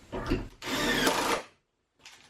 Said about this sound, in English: now I'm putting 2 2-inch Torx screws in the ends